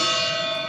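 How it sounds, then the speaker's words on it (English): A gong struck once before a live show audience rings out in a loud, sustained metallic tone, its shimmering overtones holding steady and slowly fading across the whole moment. "playing the gong"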